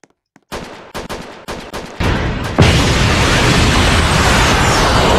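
A gun firing in a Roblox game: a short run of sharp single shots speeding up into a loud, continuous roar of rapid fire that holds to the end, with no talk.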